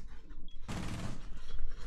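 A dense burst of rapid video game gunfire erupts after a brief quiet, rattling loudly and continuously for over a second.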